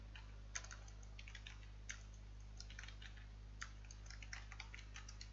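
A computer keyboard is being typed on to enter a page title: faint, irregular clusters of light key taps over a low steady electrical hum.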